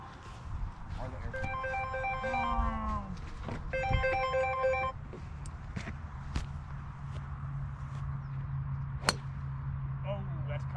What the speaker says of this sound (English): Don't mind the phone ringing.